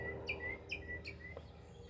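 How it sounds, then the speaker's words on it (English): A mockingbird sings faint, bright chirps, three or four repeated notes at an even pace, in a quiet outdoor setting, with crows in the distance. "Hear that mockingbird behind me and some crows in the distance."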